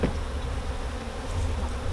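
Bees buzz around an open beehive, a dense, steady droning hum of many insects close by with no voices.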